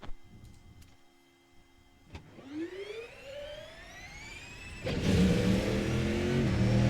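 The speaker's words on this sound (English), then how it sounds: "then we'll do the auto engine start again because it's just kind of unique." The RSS MP-H Callahan race car in the video game Assetto Corsa runs its automatic engine start: a whirring starter rises steadily in pitch for a few seconds, then the engine catches and settles into a loud, dense roar.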